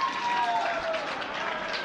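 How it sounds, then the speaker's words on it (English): A rugby sevens team bench claps for a winning try, heard as a steady wash of applause from a crowd in the stands, under a commentator speaking throughout. "Oh, and the whole bench is on their feet here applauding"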